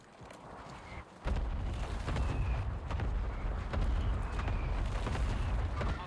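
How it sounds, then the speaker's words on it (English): Heavy booming blasts from an airstrike in Call of Duty Warzone on Rebirth Island, a sudden loud rumble that starts after a quieter second and keeps rolling with repeated deep impacts. "that airstrike does not scare him at all"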